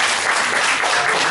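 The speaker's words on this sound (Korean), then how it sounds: "타이틀곡 대박나시라고 다시 한번 큰 박수를 부탁드리겠습니다." An audience at a members' gathering and singing contest gives a short, full burst of applause, close and continuous throughout.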